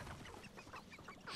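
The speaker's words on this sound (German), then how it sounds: "Komische Hühner." Video game chickens in Hogwarts Legacy cluck in a soft, continuous stream of short calls, faint and slightly distant, with no speech over them.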